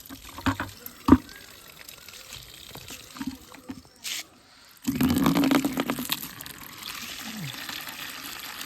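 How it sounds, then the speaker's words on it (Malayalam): Water runs into a bucket, with some splashing and dripping first, then a sustained close gush of filling that continues steadily to the end. "നമ്മൾ ബക്കറ്റിൽ ഇട്ടാലോ വെള്ളം നിറച്ചിട്ട്"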